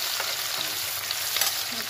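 Onions fry in a hot pan with a continuous crackling sizzle, broken by a few short scraping strokes of stirring, close and moderately loud, without speech.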